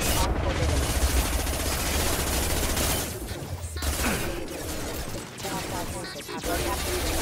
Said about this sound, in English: Why were you shooting me?